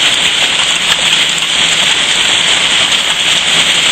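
A hail storm with heavy rain beats down by a patio and pond, a loud, dense, unbroken hissing roar that holds steady throughout with no voices.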